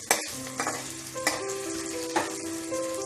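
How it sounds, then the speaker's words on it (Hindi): Rui fish pieces frying in oil in a pan, a steady close sizzle with a few louder crackling bursts as the pieces are stirred or turned, with no talk. "तो ये हो रही है मेरा मछली फ्राई"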